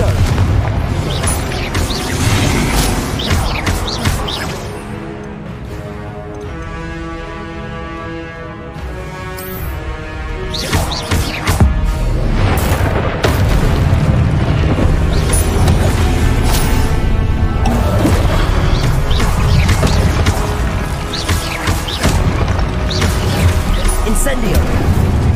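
Loud, dense spell explosions from the Hogwarts Legacy game, Confringo fire blasts booming repeatedly over a continuous game soundtrack, with a brief quieter stretch before the bursts resume.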